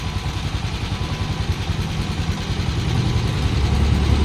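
A Honda TMX125 motorcycle engine runs steadily after starting, a loud close-up putter with a fast regular pulse that grows slightly stronger toward the end, with no talking.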